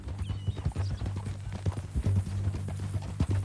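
Horse hooves clip-clop steadily in Red Dead Redemption 2, a regular rhythmic beat of hoof strikes over a low, constant hum, with a brief whinny-like tone mixed in.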